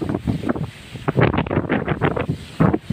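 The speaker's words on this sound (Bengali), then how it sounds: "নদীতে অনেক বাতাস, আসলে" Strong wind sweeps over the Jamuna river, buffeting the microphone in loud, irregular gusts that come and go in quick bursts, close and rough.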